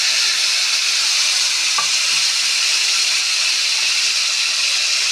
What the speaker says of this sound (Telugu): కడిగేసి కొద్దిగా వేయించుకోవాలి.